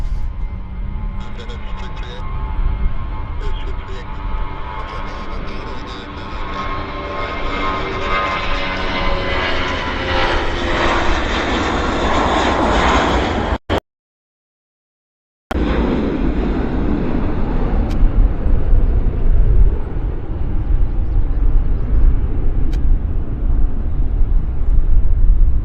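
Turboprop aircraft engines at Vancouver Airport roar loudly with a rising, sweeping drone, broken by a brief gap, then a rumbling continuation, with voices talking over it.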